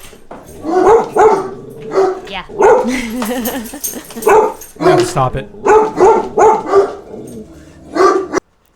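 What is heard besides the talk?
dog barking outside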